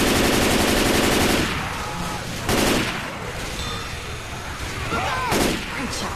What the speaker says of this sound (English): I'll get on the machine gun, okay?